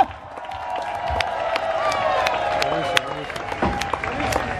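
Crowd at a Wrestling Megastars show in Bologna clapping and cheering, sustained applause with whoops, whistles and scattered shouts, a few sharp louder claps standing out near the front.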